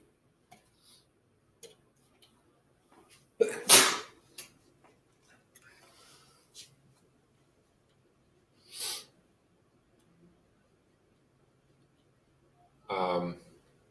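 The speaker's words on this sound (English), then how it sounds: "I was debating whether or not to try to hold this sneeze in." One sudden, loud sneeze bursts out close by amid near silence, followed later by a couple of brief, softer noises.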